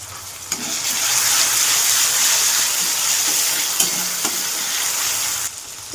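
Onion, tomato, cumin, spices, salt and moringa drumsticks sizzle and hiss steadily in a hot pan while being stirred, with occasional scrapes and taps of the spoon up close and no talking.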